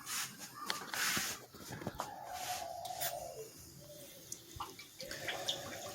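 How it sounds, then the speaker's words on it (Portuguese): A water tap fills a small tank for a water-level monitoring project, giving a running, splashing flow with a few drips and clicks, close and moderately loud, without speech. "Vou ligar aqui a água."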